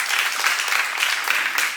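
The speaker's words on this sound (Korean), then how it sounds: "박수 한번 쳐봐요" A church congregation claps in a steady, dense burst of applause that fills the short stretch at moderate loudness.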